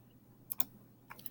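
Calculator keys tapped while an algebra expression is entered, a few quick faint clicks in two small clusters over near silence, with no talk.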